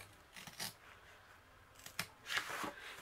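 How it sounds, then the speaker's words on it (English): Scissors snip the corners off a diamond painting canvas in a few quiet, separate cuts, one early and a short cluster near the end, with soft handling rustle between them. "I'm going to snip it right where the where those are. I'm going to cut those corners off."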